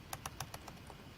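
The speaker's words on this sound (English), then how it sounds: "So if I type something" Quick typing on a computer keyboard, about eight crisp key clicks in an uneven rhythm, faint and close against a low background hum.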